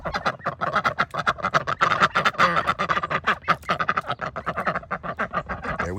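Ducks in a duck yard quack rapidly and continuously, a close, loud flock with overlapping raspy calls in quick uneven bursts.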